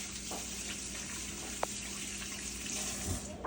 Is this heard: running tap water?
yes